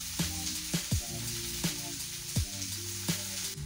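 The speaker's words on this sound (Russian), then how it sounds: "Вот туда, где у нас лук жарится" Sliced onion fries in a pan with a steady sizzle, and a utensil scrapes and stirs it in regular strokes every fraction of a second. The sound is close, with no talking.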